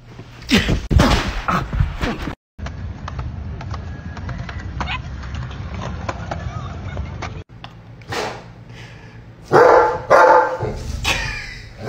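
A Doberman barks and hollers loudly in several close bursts at the start and again near the end, with a low steady hum between the outbursts and some human voices mixed in.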